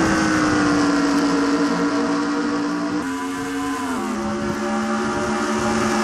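Stock race cars roar back to green at the Indianapolis Brickyard on a restart late in a NASCAR video game race, a dense loud engine drone with a pitch shift as the pack accelerates, steady and close.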